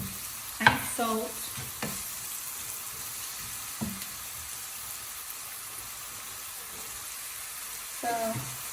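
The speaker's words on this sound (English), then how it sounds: "So just mixing the salt and the turmeric now." Turmeric and salt being stirred into sizzling methi saag with eggplant in a hot pan, a steady frying hiss under a few scraping spoon strokes, close and moderately loud.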